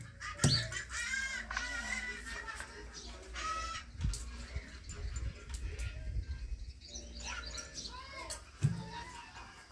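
Chickens cluck and squawk intermittently through the scene, with nearby rustling and knocks; a rooster-like call rises near the start.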